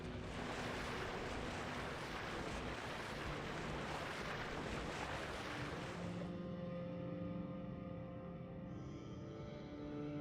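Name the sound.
water falling from above in a video game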